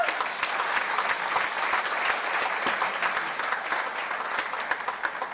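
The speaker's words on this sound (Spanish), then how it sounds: "¿Qué le parece si usted le da un aplauso al Señor?" Sustained applause from a church congregation, dense and steady clapping throughout with no talking over it.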